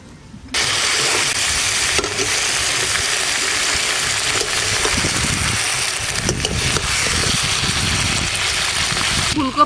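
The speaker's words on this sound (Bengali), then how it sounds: "ফুলকপি ভাজা হয়ে গেছে" Cauliflower florets frying in a pan of hot oil, a steady broadband sizzle that starts abruptly and holds loud and close throughout, with occasional stirring scrapes.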